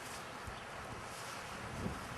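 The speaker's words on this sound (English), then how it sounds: "we didn't pick a very good moment between the gale force bursts of wind here" Gale-force gusts of wind outdoors buffet the microphone in a continuous, loud, rushing roar with no clear breaks.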